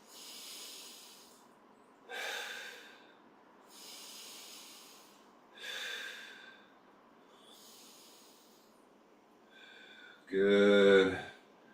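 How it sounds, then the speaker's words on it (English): Three slow, deep breaths taken during a twisting yoga stretch from warrior pose. Each is a close, airy inhale and exhale repeating in an even rhythm, followed by a short voiced sound at the end. "3 deep breaths."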